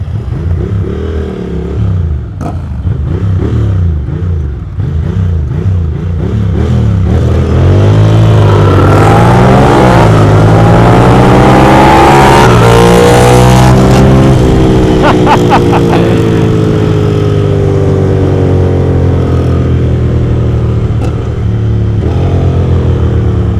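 A car accelerates hard on a night drive, its loud, close engine revving with repeated rising pitch sweeps as it climbs through the gears. The roar swells and holds near full volume in the middle, then eases slightly.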